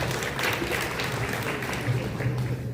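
Audience at a candidate forum at a cultural center gives a round of applause for two candidates, a sustained crowd clapping that stays fairly even throughout, with a faint low hum underneath.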